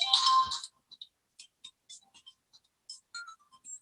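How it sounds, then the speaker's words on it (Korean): An incoming-call phone ringtone gives a loud opening chime, then a string of short, bright beeping notes in an irregular melody, with no one speaking. "갑자기 전화를 안 하던 사람이 오늘따라 전화를 지금"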